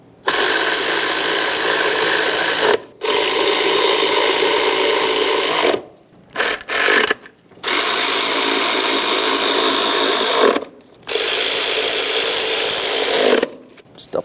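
Ratchet or power driver snugging the camshaft position sensor mounting bolts on a 2007-2013 Acura MDX engine, loud buzzing bursts of a few seconds each separated by short pauses, close up.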